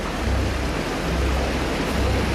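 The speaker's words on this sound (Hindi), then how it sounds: "पश्चिमी चंपारण में पानी का बहाव कितनी तेज है, उसे आप उसकी आवाज सुनकर ही समझ सकते हैं।" Floodwater in West Champaran, Bihar rushes past in a loud, dense, continuous roar that fills the whole short stretch without a break.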